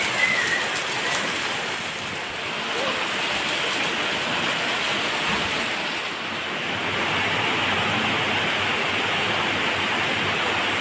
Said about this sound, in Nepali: यता पानी परिरहेको छ।